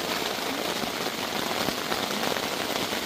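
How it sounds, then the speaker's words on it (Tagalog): Heavy rain pours down on a mountain campsite in a dense, constant roar with no letup, close and loud. "Yan, ulan na naman. Lakas pa. Lakas na."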